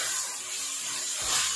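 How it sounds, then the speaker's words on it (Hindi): Chicken chow mein frying hard in a wok over high heat, a steady close hiss with a brief louder surge near the end. "तेज आंच पे अच्छी तरह फ्राई करें, और चाइनीज डिशें जो होती हैं इनको तेज आंच पे फ्राई किया जाता है।"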